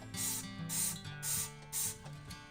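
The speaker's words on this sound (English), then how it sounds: "use a rag or a paper towel to just go ahead and spray the bottom" Dawn Platinum Power Wash Free and Clear cleaner sprays onto the bottom of a washing machine in four short, hissing bursts spaced about half a second apart, close and fairly loud, with a low hum underneath.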